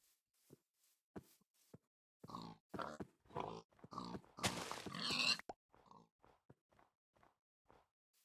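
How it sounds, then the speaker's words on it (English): Pigs grunting in the Minecraft Better Than Wolves mod, a series of short, close grunts and oinks in an irregular rhythm, with a louder, denser burst in the middle. "Nice bunch of pigs."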